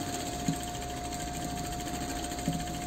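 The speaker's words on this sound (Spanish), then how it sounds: "Entonces ahora yo voy a coser de esta forma." A sewing machine stitches a quilted capitoné handbag, running with a steady, even mechanical hum and a constant whine, joined by a couple of soft clicks, close and continuous with no talk.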